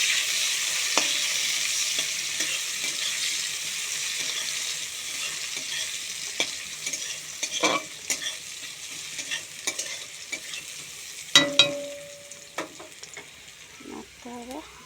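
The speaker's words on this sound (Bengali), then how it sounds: "পেঁয়াজ দিতে হবে, দিয়ে একটু নাড়তে হবে।" Onions frying in oil with panch phoron, a steady sizzle that fades as it goes, punctuated by sharp scrapes and knocks of stirring, with a brief voice near the end.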